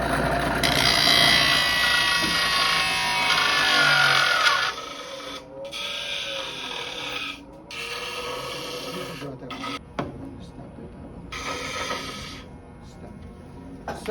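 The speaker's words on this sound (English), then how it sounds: "Here is the grinder." A grinder works on a ram's horn shofar mouthpiece in a shofar workshop, giving a loud continuous abrasive rasp that drops in level midway and is broken by brief pauses.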